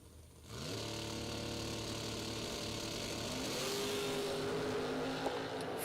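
Drag racing car launching down the strip at a half-million-dollar drag race event, a steady loud engine roar starting abruptly and holding throughout, rising slightly near the end.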